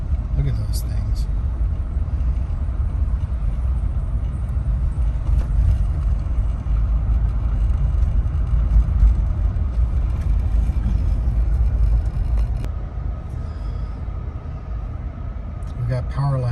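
Trucks drive along an icy road during an ice storm in Clackamas County, Oregon, a steady broadband rumble of engines and tires holding throughout the clip with scattered clicks and crackles on top.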